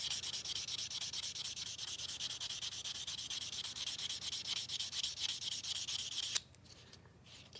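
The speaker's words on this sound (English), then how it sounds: "I'm going to buff the nail just a little bit, just to make sure there's it's nice and fairly smooth" A nail buffer rubs rapidly back and forth across a fingernail being smoothed after a break repair, making a quiet, close, evenly rhythmic scratchy swish that stops abruptly near the end.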